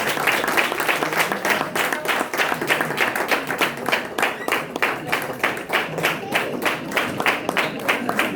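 An audience claps steadily and loudly to welcome a guest onto the stage at a Christian worship gathering, with a dense, continuous patter of many hands throughout and no voice over it.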